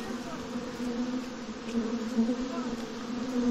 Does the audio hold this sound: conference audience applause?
no